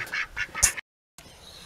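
Ducks quacking close by in a short burst of several loud calls, then a gap of silence before a quieter stretch of background noise.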